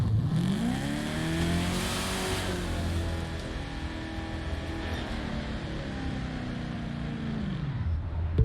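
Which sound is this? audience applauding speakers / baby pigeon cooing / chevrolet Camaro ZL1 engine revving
chevrolet Camaro ZL1 engine revving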